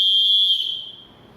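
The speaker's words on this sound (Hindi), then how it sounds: "सीटी के द्वारा ध्वनि कैसे उत्पन्न करेंगे" A single sustained, shrill whistle blast blown hard at close range, loud and steady at first, then tailing off and fading out near the end.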